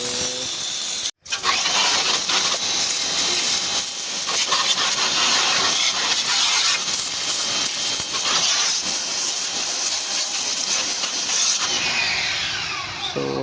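A SOARFLY portable high-pressure washer running with water inside, a loud continuous hissing, roaring spray that cuts out briefly near the start and then carries on steadily.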